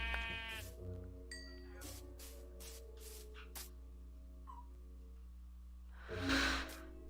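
Sheep bleat a few times in a Minecraft-like video game, fairly close and clear over a steady background drone, with a burst of other noise near the end.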